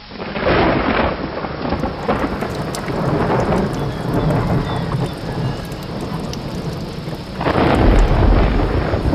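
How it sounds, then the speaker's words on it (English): Heavy rain pours steadily on surfaces while thunder rumbles loudly, with a deep close crack near the end of the storm; no voices are heard. "It is raining."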